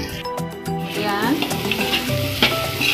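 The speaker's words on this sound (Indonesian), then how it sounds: "Ini bawangnya sudah saya tumis." Garlic stir-fries in a hot pan with continuous close sizzling and the scrape of stirring throughout, during preparation of a simple stir-fried bitter gourd dish.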